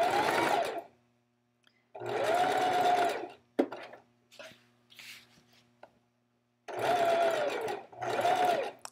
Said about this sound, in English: I'm going to stitch all over the whole circle of the stock.